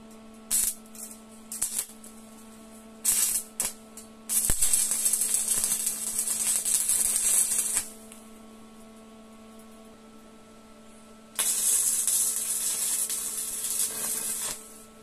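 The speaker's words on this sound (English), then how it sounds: "Welding." Welding reclaimed steel for a steel and timber table gives a harsh crackling hiss in two long bursts, with short sputters before them, over a steady workshop hum.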